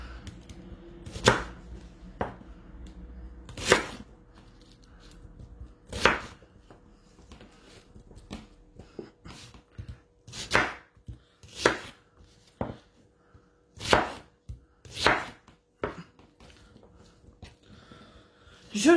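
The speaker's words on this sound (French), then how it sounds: "Je vais faire pareil avec l'oignon, je vais le couper grossièrement," A knife cuts an onion into coarse cubes on a board, making sharp irregular chops spaced out over about twenty seconds, close and distinct with quiet handling sounds between strokes.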